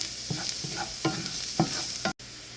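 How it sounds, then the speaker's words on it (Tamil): Chilli powder sautéing in a pan, with several quiet, separate stirring scrapes over a soft, steady sizzle. "சில்லி பவுடர் போட்டு இது பச்சை வாசனை போகிற வரைக்கும் கொஞ்சம் வதக்கிட்டு"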